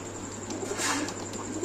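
Fancy pigeons coo softly at a large pigeon farm, a short low call heard over a steady background hum, with no talking.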